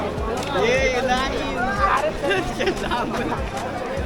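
A busy crowd chatters at the Ekvira temple, a dense babble of many overlapping voices nearby, with a close voice speaking over the hubbub.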